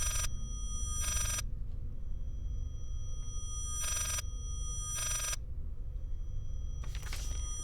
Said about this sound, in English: I'm afraid I will have to forego that letter in favor of the dreaded phone. Just to silence it.